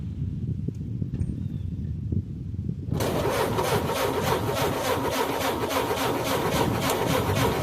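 Ford Model A engine with an upgraded distributor, cranking with the ignition switched on: a quiet lead-in, then a loud, rhythmic, churning cranking noise close by that keeps going without catching.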